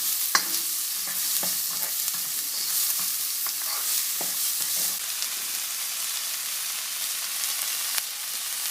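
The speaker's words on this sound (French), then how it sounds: "Maintenant que les oignons sont légèrement caramélisés" Onions caramelizing in a frying pan while being stirred, a steady close sizzle under repeated scraping and stirring strokes, with no one speaking.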